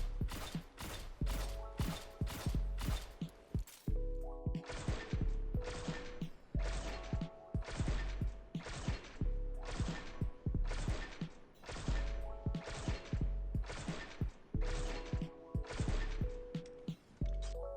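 Sturm 120 hand cannon firing in Destiny 2, a long series of loud, sharp, evenly spaced shots in steady rhythm, each with a short metallic ring, interrupted by a couple of brief reload pauses.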